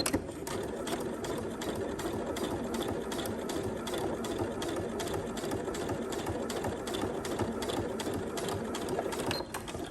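Sewing machine running continuously while stitching a zipper onto swimsuit fabric, a steady fast mechanical whir with a rapid needle rhythm, close and alone for the full stretch.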